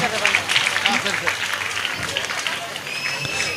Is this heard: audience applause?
yes